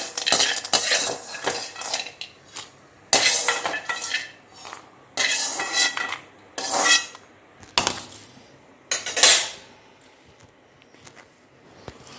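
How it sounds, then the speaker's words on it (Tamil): Roasted onions being scooped out of a pan, a series of close metal spoon scrapes and clinks against the pan in irregular bursts with short pauses between them. "வெங்காயமும் நல்லா வறுபட்டுருக்குங்க நம்ம எடுத்துக்கிடலாம்"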